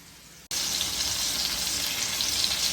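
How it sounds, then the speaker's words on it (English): After a brief quiet moment, loud sizzling suddenly erupts as base seasoning hits a hot pan for fish tacos, continuing as a steady, crackling hiss close by. "Sizzling."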